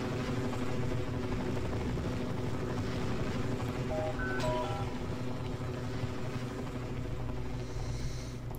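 A steady, droning rotor hum of a helicopter in the video game Half-Life: Poke646 Vendetta fills the whole stretch, loud and continuous, with brief electronic beeps sounding partway through.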